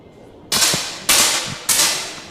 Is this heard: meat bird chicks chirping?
no